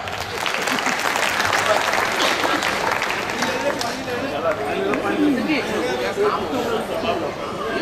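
A crowd at a Hindi comedy poetry gathering in Delhi claps loudly and densely, the applause thinning after a few seconds into murmuring chatter and scattered claps.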